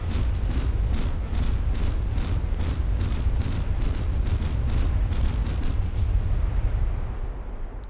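Quad 250mm naval guns in From The Depths firing repeatedly, a steady rhythm of sharp booms about every quarter second over a constant low rumble, loud and sustained for most of the clip.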